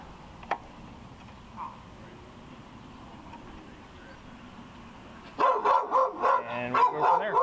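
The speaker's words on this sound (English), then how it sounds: "we got the dogs to quiet down a little bit" Several dogs bark in a loud, rapid run of overlapping yaps after a stretch of quiet background, close by in a garage or yard setting.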